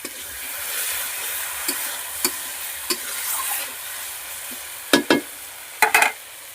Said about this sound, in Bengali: মশলাটা কষিয়ে নিচ্ছি। অল্প জল দিয়ে দিলাম।